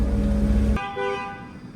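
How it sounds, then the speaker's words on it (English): A car alarm on a vehicle hitched to a trailer sounds a short, loud horn blast that cuts off abruptly, followed by a brief electronic warbling tone over quiet outdoor background. "put that bag of soil on there because the car changed height, set the car alarm off"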